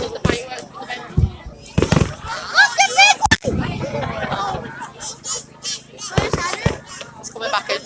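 Fireworks go off at a bonfire night event at a club, sharp cracks and bangs scattered irregularly with crackling bursts between, while people talk nearby.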